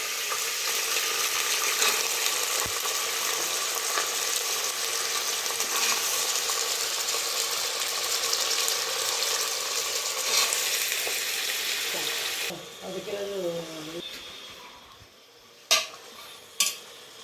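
Kabuli chickpeas frying and being stirred in a pan, with a loud, steady sizzle that runs unbroken for most of the time and then drops away near the end into a few soft clinks and scrapes.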